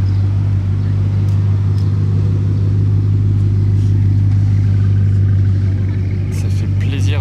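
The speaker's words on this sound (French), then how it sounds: "Ça fait plaisir de se faire réveiller par un W16." A W16-engined supercar passing through Monaco: a deep, loud engine rumble holds steady throughout, with crowd voices and chatter over it.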